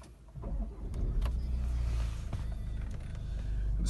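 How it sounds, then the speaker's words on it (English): A 2017 Range Rover Evoque engine starts by push button and settles into a steady low idle, with a few faint clicks from inside the cabin. "I'll just turn the car on with the engine start stop button there"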